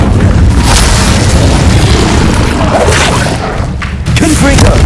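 Incendio fire spell cast in the video game Hogwarts Legacy, a loud sustained roaring whoosh of flame with booming low rumble over dense combat noise, briefly dipping before surging again.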